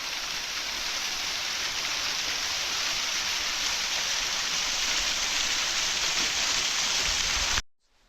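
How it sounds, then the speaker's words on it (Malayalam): A dense, steady rush of water falling at a waterfall in Vagamon roars without a break, then cuts off abruptly at the end. "മഴ കുറഞ്ഞതോടുകൂടി വെള്ളച്ചാട്ടത്തിൻ്റെ ശക്തിയൊക്കെ കുറഞ്ഞു കേട്ടോ"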